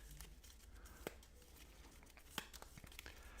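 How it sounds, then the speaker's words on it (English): Marvel Champions encounter deck of cards being shuffled by hand, a quiet papery rustle with soft crinkles and two sharp riffle snaps standing out, close and alone with no talk. "Shuffle the encounter deck."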